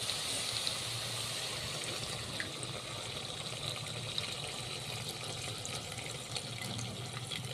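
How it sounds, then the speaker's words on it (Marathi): Water poured steadily into a pan of spiced vegetable curry, a continuous close gushing, trickling flow that stays even and unbroken throughout. "आता आपल्याला जेवढं लागतं तेवढं पाणी सोडायचं।"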